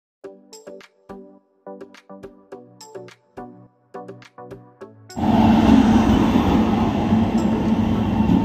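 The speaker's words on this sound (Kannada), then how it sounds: "ಈಗ ಟ್ರೈನ್ ಬಂತು" A passenger train pulls into a station on a Mangalore to Cochin trip: a run of rhythmic, evenly spaced tonal clacks gives way to a loud, sustained rumble and roar of rail cars passing close by.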